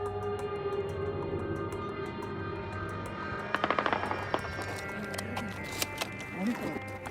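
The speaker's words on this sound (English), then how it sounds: "we heard gunshots very close to the plane" Gunshots fired near a Mexican Air Force plane during takeoff outside Culiacan Airport, a cluster of sharp distant cracks over constant engine roar, with scattered further pops afterward.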